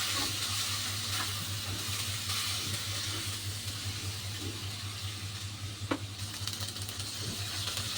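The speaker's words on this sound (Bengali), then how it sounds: "মিডিয়াম ফ্লেমে অনবরত নাড়াচাড়া করে ভিন্ডিগুলো একটু লাল লাল করে ভেজে নিতে হবে।" Okra (bhindi) fries in a pan over a medium flame and is stirred constantly. A steady close sizzle and hiss runs throughout, broken by occasional scrapes from the spatula.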